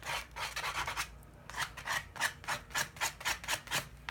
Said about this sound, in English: Now here I'm gonna make some